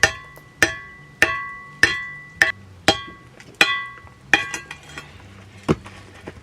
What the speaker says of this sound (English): I could manage to fix this thing using a rock as a hammer